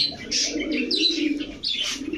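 Pigeons in a breeding loft coo close by in low repeated throaty rolls, with brief higher chirps over them and no talking.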